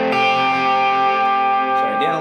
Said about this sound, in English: Sorry, Dan Electro gets a little noisy from time to time.